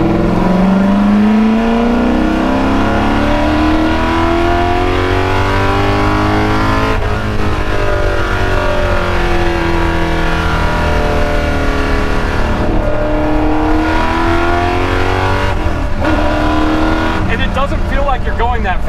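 Ford GT40 engine pulling hard through the higher revs in second gear, a loud continuous rising drone with shifting pitch, heard from inside the car with people talking over it.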